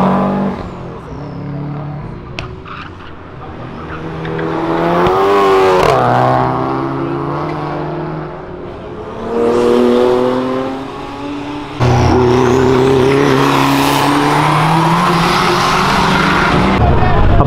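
Cars accelerate hard and roar past at a street car meet, including an Audi S3 and a Jetta, with engines revving loudly in repeated surging passes; voices talk faintly under the engine noise.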